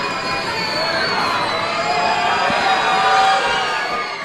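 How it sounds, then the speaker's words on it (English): A basketball crowd in an NBL1 men's game between Eltham and Nunawading roars and cheers for a made free throw, a loud, sustained wash of voices that swells toward the end. "The crowd is up with a cheer, but he knocks down the first."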